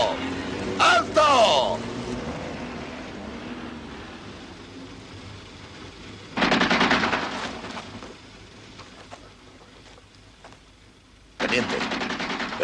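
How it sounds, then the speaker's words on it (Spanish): Bursts of distant gunfire rattle in rapid volleys, separated by stretches of quieter background, with a man's brief exclamation near the start. "Quizás sean disparos de aviso,"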